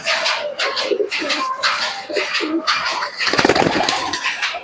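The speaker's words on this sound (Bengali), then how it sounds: "এটা মাদিন কবুতর" Giribaj pigeons coo in soft, throaty, repeated bursts close by, with some wing shuffling and brief talk.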